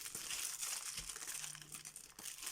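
Close, quiet crinkling and rustling of tape being handled and cut, a few sharp little ticks scattered through the crackle.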